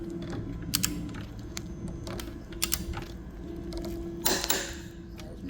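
A Newman roller frame for screen printing is turned out corner by corner on a homemade stretching table. Steady creaking and ratcheting mechanism clicks run over a low hum, with a few sharper clacks, close and moderately quiet.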